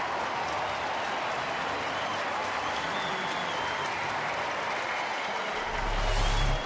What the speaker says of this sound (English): And the crowd excited about that one.